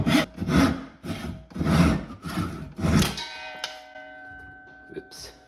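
A handsaw cuts through walnut wood for a strop handle, five loud rhythmic rasping strokes close by, then the saw goes quiet and a faint ringing lingers.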